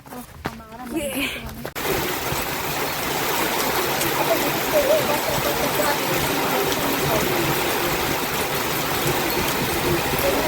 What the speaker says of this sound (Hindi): तो दोस्तों हम लोग वापस से बारिश में फंस चुके हैं।